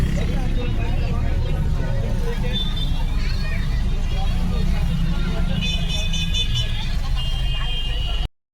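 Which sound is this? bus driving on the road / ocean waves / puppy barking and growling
bus driving on the road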